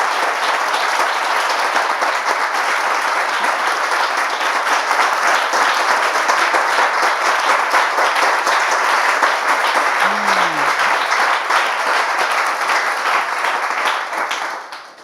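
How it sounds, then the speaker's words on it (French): Steady audience applause fills a television studio as a guest is brought onto the set, loud and continuous for about fourteen seconds before fading at the end. "On l'applaudit jusqu'à ce qu'il s'installe."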